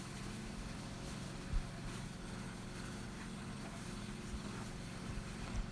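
A Yard Machine chipper/shredder chews through leaves, its engine droning loud and steady with a brief knock or thump partway through and no talk over it.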